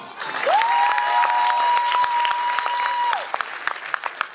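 An audience claps steadily at a stage show in Poprad, dense and fairly loud throughout, while a sustained whistle-like tone rises, holds and falls over the crowd for about three seconds.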